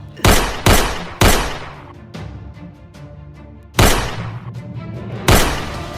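Gunfire in a comedic kidnapping skit, six sharp shots in an uneven sequence, loud and close, each followed by a short ringing decay.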